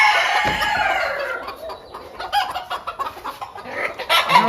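White Polish chickens on a farm, a rooster's crow fading into a run of close clucks and short calls in an uneven rhythm, with no talk.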